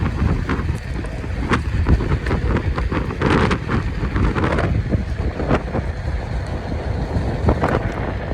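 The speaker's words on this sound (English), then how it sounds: "Yeah, this wind. Pretty chilly." Gusty outdoor wind buffets the microphone while riding a Onewheel through a neighborhood, producing loud, rumbling low-end roar with irregular bursts and rustles throughout, no speech.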